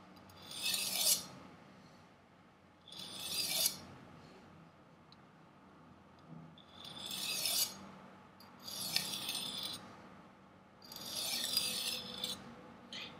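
A kitchen knife is sharpened to a fine edge with about six separate rasping strokes, each a second or so long, spaced by short pauses, close and fairly quiet.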